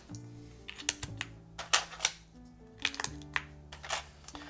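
Steady clacking of a 60% mechanical keyboard without foam, with quick irregular keystrokes and occasional louder presses, close up against a faint background hum.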